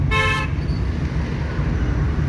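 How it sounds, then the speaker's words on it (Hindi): A car horn gives one short, loud toot during a beginner driving lesson in Jaipur traffic, then the steady hum of the engine and road noise carries on inside the car. "हॉर्न देंगे आप भी"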